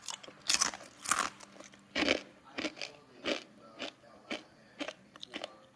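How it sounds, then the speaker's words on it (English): Crunchy fried taro and young banana chips bitten close up, about ten crisp crackling crunches in an uneven rhythm, each a short sharp burst against a quiet background, with no talking. "ខ្ញុំភ្លក់ចាំមើលឮសំឡេងណាចាស្រួយឆ្ងាញ់មែនតើចា"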